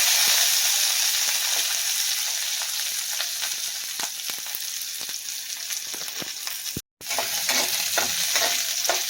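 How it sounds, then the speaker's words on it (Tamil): Ridge gourd sautéing in a hot pan for chutney: a continuous, close, hissing sizzle with frequent scraping stirs and ticks, briefly cut off by a moment of silence before resuming. "இப்போது பீர்க்கங்காய் நல்லா வதங்கிட்டு"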